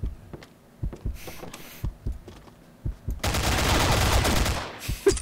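Combat Arms gunfire starts as scattered single thumping shots spaced irregularly, then becomes a loud sustained burst of rapid automatic fire that tails off into a few final shots.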